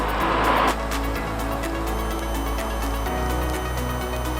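Steady droning engine of a small airplane on a solo landing approach in Vermont, a constant loud hum with a brief rush of wind at the start, no talking.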